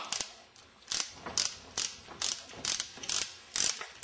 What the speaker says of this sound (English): Let's remove the ground bolt first.